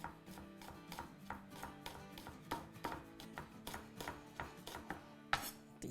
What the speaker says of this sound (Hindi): चलें यहाँ हम 2-3 मिर्चें काट लेंगे